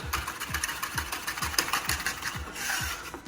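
Crushed garlic ground with coarse salt into a paste, giving a close, regular scraping rhythm of about three strokes per second with gritty grinding over each stroke.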